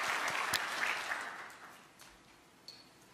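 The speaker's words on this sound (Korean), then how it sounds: "한 번 더 박수로 좀 격려해 주시면 감사하겠습니다" A church congregation at an evening revival service applauding, a warm burst of clapping that swells briefly then thins and fades to scattered claps, heard from within the hall.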